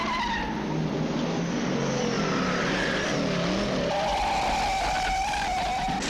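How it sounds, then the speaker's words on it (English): Action-movie car chase with engines roaring and tires squealing and skidding, loud and continuous, with rising and falling pitch as the cars accelerate and pass. "Each one of the cars has a special sound, a specific sound."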